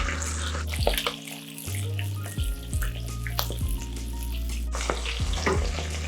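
Calamari fry in oil heated past 400 degrees, giving a continuous, crackling sizzle with bubbling splashes, heard under background music and with no talk.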